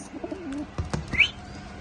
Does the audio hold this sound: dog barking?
no